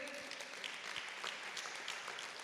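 A church congregation applauds in a steady, dense wash of clapping that holds evenly throughout at a moderate distance, with a faint murmur of voices beneath it.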